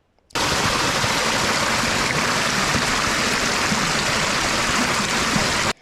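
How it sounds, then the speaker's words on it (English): Water pours steadily onto a small model turbine, a loud continuous rushing splash that starts abruptly and holds evenly for several seconds before stopping. "the turbine is rotating because the water is flowing directly on it"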